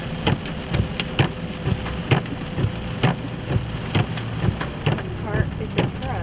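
Rain pours steadily on a vehicle driving an interstate during a thunderstorm, with a constant hiss broken by regular sharp thumps from wipers or drops, while someone talks over it.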